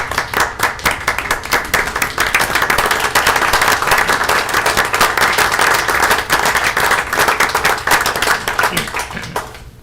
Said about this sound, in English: Would you stand and give them a great round of applause?